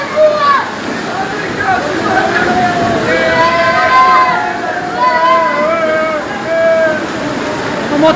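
Floodwater rushes loudly and continuously through a street in heavy rain, a dense steady wash with voices and excited talk over it and an engine-like hum beneath.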